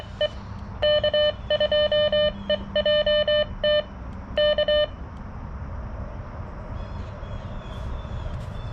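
Hand-sent CW Morse code tones from a Xiegu X6200 radio during a portable park operation: crisp high beeps in short and long keyed bursts over a faint background hiss, then the tones stop.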